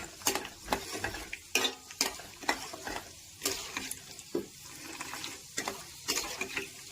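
Peanuts crackle and sizzle in hot oil while a spoon scrapes and clinks against the pan in uneven strokes.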